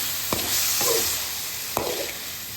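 Cuttlefish sizzles steadily in a hot pan, a continuous frying hiss with a few sharp splashes and clicks as pieces are added and stirred, close and fairly loud with no talking.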